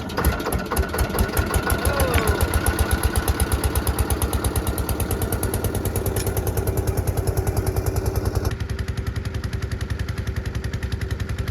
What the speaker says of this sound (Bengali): ঝটপট করে কিন্তু বোট স্টার্ট দেবো, বোট স্টার্ট দিয়ে যাবো